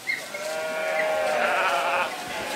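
Sheep bleat on a palm plantation farm, several overlapping calls rising and falling close by, with a steady outdoor background.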